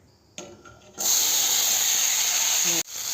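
Oil poured into a hot wok (kadai) bursts into a loud, steady hiss that holds for nearly two seconds before cutting off abruptly, following a couple of brief clinks.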